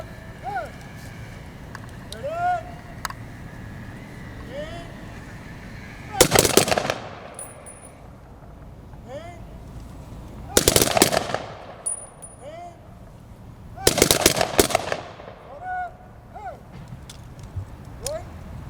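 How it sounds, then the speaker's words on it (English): A color guard at a Veterans Day ceremony fires a three-round rifle volley outdoors, three sharp, loud cracks several seconds apart, each leaving a brief echo, with a speaker's voice and crowd murmur between shots. "Color Guard will now fire a 3-round volley."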